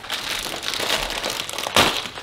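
Crinkling of a small plastic packet handled during a package unboxing, close and crisp with a sharp crackle near the end.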